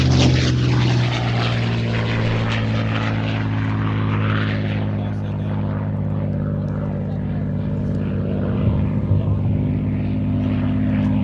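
Allison-engined WWII fighter aircraft with a propeller engine, a steady loud drone with strong low harmonics held throughout, sounding close and continuous.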